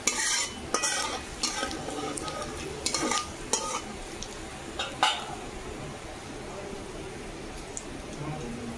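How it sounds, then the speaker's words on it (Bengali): Panch phoron spices frying in a pan while being stirred: sharp clinks and scrapes of a spoon against the pan come in quick bursts over a steady soft sizzle. "পাঁচ ফোড়ন দিয়ে দেবো,"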